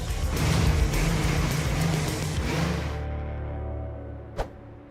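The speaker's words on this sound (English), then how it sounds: "My engine's too loud." A rare, loud classic car engine roars up close, a heavy rumbling drone with a steady low tone that cuts off abruptly and leaves a faint idle and one sharp click.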